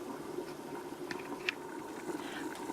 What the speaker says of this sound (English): the bubbling you hear is coming from this cast iron pot on the left